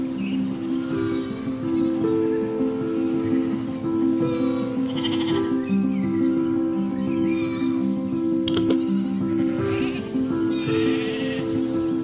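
Native Irish Galway sheep bleating repeatedly and loudly, several animals calling in overlapping, wavering cries close by over a steady background, with no talk.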